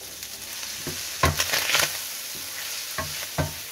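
Ham pieces fry in olive oil in a hot pan, a steady close sizzle broken by louder crackling bursts and a few stirring clatters.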